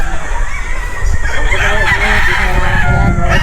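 Chickens cluck and a rooster crows close by in a farm's breeding area over a steady, noisy backdrop of farmyard sounds.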